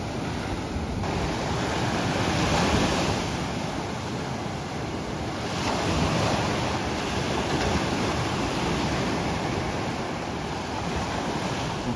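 Ocean waves wash onto a beach where a sea turtle returns to the sea, a loud continuous surf roar with gentle swells and some wind, no voices.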